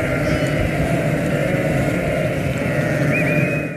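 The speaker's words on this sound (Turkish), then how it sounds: "Kuzular beslenmesi için anneleriyle böyle buluşturuluyor." Lambs and ewes bleat continuously in a dense, loud flock chorus as lambs are brought to their mothers for feeding at a state livestock farm in Ceylanpınar, Turkey, with no talk over it.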